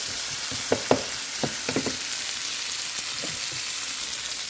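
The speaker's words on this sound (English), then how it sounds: "I'm gonna get the onions, put them on" Onions frying in a pan give a steady close sizzle throughout, with a few brief louder pops and crackles near the start and the middle.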